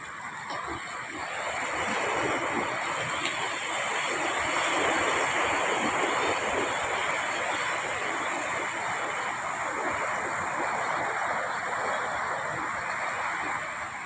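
Calm sea waves wash onto the shore in a steady, broad hiss with gentle swells, mixed with some wind noise and no talking.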